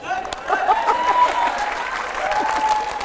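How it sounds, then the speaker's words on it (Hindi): A TV studio audience claps loudly and continuously at a Hindi quiz-style show, a dense wash of applause lasting the whole stretch, with a faint tonal whistle or voice running through it. "और जोरदार तालियां हर जवाब पर"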